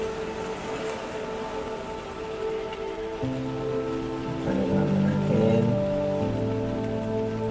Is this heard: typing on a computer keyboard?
no